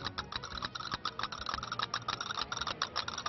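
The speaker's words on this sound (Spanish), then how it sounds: "Voy a enseñar unos palillos, unas castañuelas, las de Juan." Castanets clicking in quick, continuous rolls at the Seville Fair in Andalusia, bright dense clatter with steady rhythmic bursts, fairly close and alone without talk.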